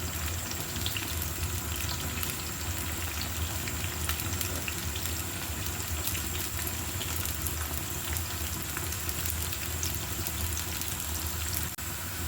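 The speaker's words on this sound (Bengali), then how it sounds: "প্রথমে আমি পেঁয়াজের ব্যারেস্তাগুলো করে নিব" Onions fry steadily in hot oil for mutton biryani barista, giving a continuous, even sizzle and crackle heard alone and close for the whole stretch.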